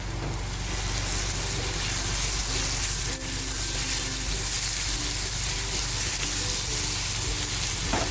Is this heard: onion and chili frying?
yes